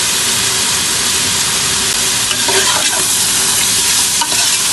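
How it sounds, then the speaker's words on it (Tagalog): Beef innards for pinapaitang baka being stirred in a pot with salt, pepper and beef cube, giving a loud continuous sizzle and hiss with scraping stirs throughout and no voices. "halo-haloin lang naman natin ng konti para mag-isa yung laman loob ng baka"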